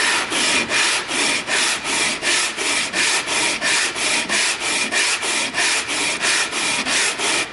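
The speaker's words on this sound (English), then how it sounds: "the sanding block, which will keep all this level and flat" A sanding block rubs back and forth across a wooden box lid to level pin marks, making a steady, rhythmic scratchy rasp of roughly twenty even strokes, close and loud with no talk.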